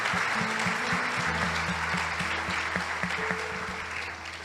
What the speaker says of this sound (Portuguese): Tem que ter umas palmas depois de uma letra dessa.